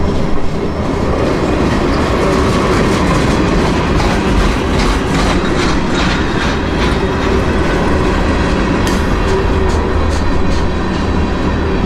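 A local freight train shoving back into the yard at Winston after work at Griffin, a loud steady rumble of rolling wagons with rhythmic clickety-clack of wheels over rail joints, heard alone without talk.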